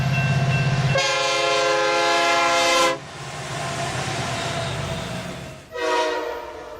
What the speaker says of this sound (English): does this train ever stop?